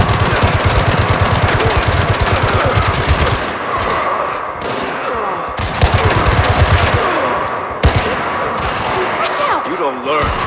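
Rapid machine-gun gunfire in the mobile video game Gangstar Mirage City, loud dense bursts of automatic fire with sharp single shots and impacts, under shouted voices.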